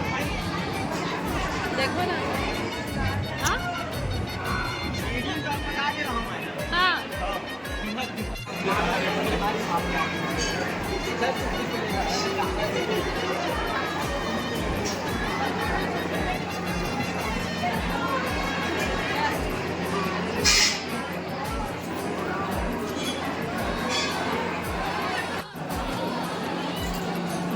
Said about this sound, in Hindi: अति भीड़ है आज, है ना, अति भीड़ है जी आज